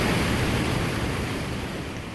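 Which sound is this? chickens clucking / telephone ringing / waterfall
waterfall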